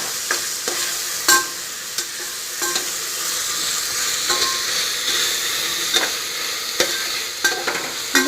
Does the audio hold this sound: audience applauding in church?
no